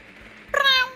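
A person imitating a cat's meow during a drunken Rainbow Six Siege gaming session, a single short, bright, tonal meow that cuts in suddenly after quiet background talk.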